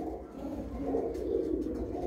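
Racing pigeons from Ustad Binder Kingre's loft coo in a low, steady murmur, close and continuous under a faint background hum.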